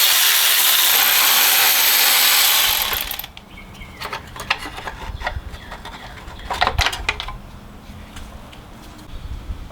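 A bolt is loosened from a turbocharger heat shield on a Chevrolet Cruze 1.4 with an E12 bit, starting with a loud steady whirring burst and then fading into quieter ratcheting, clicks and metallic handling noises.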